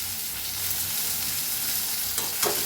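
Mashed roasted eggplant bharit with salt and crushed thecha sizzles steadily in a pan, a continuous frying hiss broken near the end by a couple of scraping stirs of the spatula.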